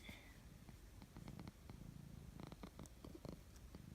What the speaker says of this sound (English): he says hi with a purr